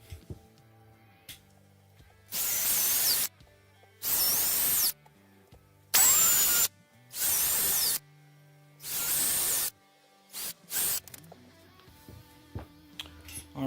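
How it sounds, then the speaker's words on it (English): A power drill whirs in five steady bursts of about a second each, drilling holes in a guitar body, separated by short pauses, followed by a few brief, quieter spurts. "And now we drill."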